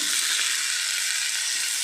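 A brief, loud, close-up burst of hot-oil frying in a pan, likely vegetables, gives a steady bright sizzling hiss that holds even throughout, with no talking.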